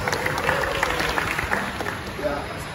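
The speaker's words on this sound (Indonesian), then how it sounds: "Tepuk tangan dong untuk Iwan Fals." A studio audience applauds for a guest on an Indonesian entertainment talk show, a steady wash of clapping with crowd murmur and voices audible underneath.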